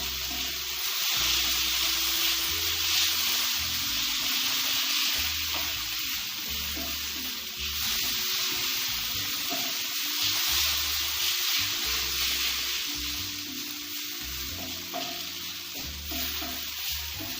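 An omelette fries in a pan during village cooking in Africa, giving a steady, close, continuous sizzle that holds throughout without anyone speaking.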